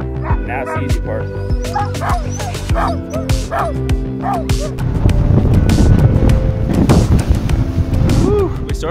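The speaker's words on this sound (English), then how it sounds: "We started off the morning bright and early with some dog sledding" Sled dogs in Norway bark, yip and whimper excitedly and continuously at close range before a dog sledding run, with a rising chorus of overlapping barks and a low engine rumble.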